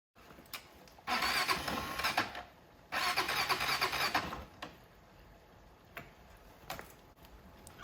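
A four-wheeler engine is cranked twice in long grinding bursts close by, after the exhaust plug was left in the muffler, followed by scattered clicks and ticks in a quiet space.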